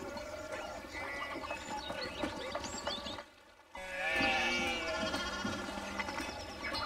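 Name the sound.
sheep bleating in the video game Pentiment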